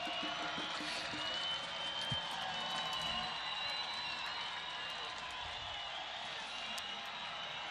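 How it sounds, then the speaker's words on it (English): A stadium crowd at an El Paso Locomotive FC soccer match applauds a substituted player late in the 90th minute, with steady distant clapping and cheering that carries throughout at moderate loudness. "Big round of applause and a curtain call for the man from Zionsville"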